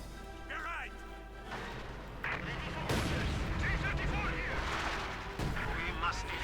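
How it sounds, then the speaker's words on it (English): An artillery strike in the World War II strategy game Company of Heroes 2 lands on a base, giving heavy booming blasts and rumbling debris over continuous battle noise, while a commentator talks throughout. "And an artillery strike straight towards the base, causing heavy casualties, but no wipes though."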